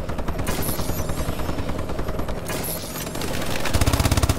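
A Warbird aircraft killstreak in Call of Duty Advanced Warfare. Its rotor-like engine drones steadily while bursts of rapid machine-gun fire crackle over it, and the firing grows louder and denser toward the end.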